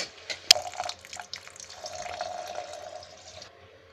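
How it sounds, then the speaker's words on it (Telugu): Water pours and splashes into a pot of lentils and bottle gourd for a few seconds, starting with a sharp clink, then a steady trickle that fades. "ఇప్పుడు నీళ్ళు పోసుకుందాం"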